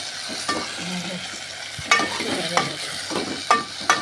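Onions frying in a pan for a Punjabi home-cooked dish, stirred with a spoon: steady close sizzle broken by several sharp scraping strokes, no voices.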